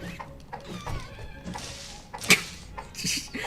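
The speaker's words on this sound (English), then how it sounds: "That's my cat you can hear in the background." A cat meows a few times in the background, moderately faint, amid room noise and scattered clatter, with one sharper brief sound near the end.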